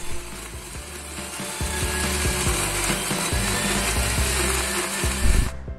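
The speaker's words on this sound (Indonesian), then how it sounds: "Lalu kita blender hingga halus." A kitchen blender whirs steadily and loudly as it purées pandan and suji leaves with water, a dense grinding roar that holds throughout before cutting off at the end.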